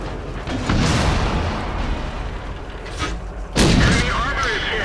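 Heavy tank cannon fire booms in a World of Tanks battle, two big blasts several seconds apart with rumbling noise between, loud and close.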